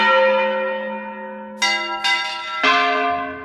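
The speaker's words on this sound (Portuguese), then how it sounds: "aí o sino tem que tocar" A church bell tolls for a funeral, its long ringing tone decaying slowly before three further strikes in uneven succession, each blooming loud and then fading.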